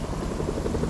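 A helicopter in Fortnite gives off a steady, close rotor thrum with fast rhythmic pulsing that fills the whole moment, and no voices are heard.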